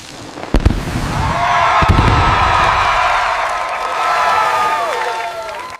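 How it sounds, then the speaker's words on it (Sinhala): Cartoon firecrackers set off at a village Vesak celebration, two sharp bangs followed by a long crackling, whistling burst of fireworks that rises and holds, with faint crowd-like cheering underneath. "අන්නාසි අයියා රතිඤ්ඤා පත්තු කළා."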